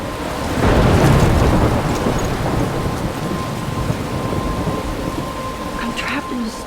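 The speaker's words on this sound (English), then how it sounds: "I'm trapped in a storm?" A thunderstorm in the Life Is Strange video game: a deep rolling thunder rumble swells early, then steady heavy rain hisses on, with a voice briefly heard near the end.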